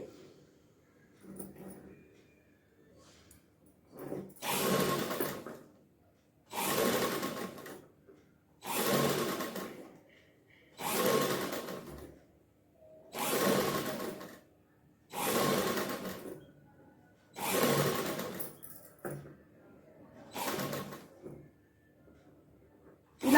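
A sewing machine stitches a cloth neckline in eight even bursts of whirring, each a couple of seconds long and separated by short pauses, close and clear.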